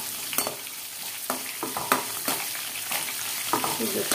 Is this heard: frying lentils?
yes